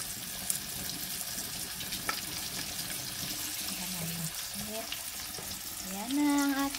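Flour-coated fish frying in a hot pan, a steady loud sizzle throughout, joined near the end by a faint rising whistle-like tone.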